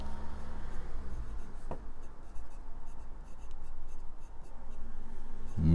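A Namisu Naos aluminium fountain pen with a medium steel nib scratches softly across paper over a low background hum. The strokes are faint and continuous, with no voices.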